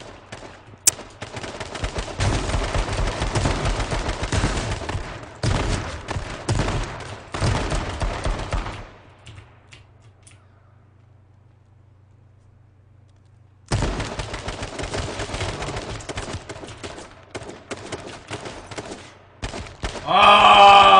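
Loud, dense gunfire rattles through H1Z1 in long sustained bursts, cuts to near silence for a few seconds, then erupts again into heavy continuous shooting.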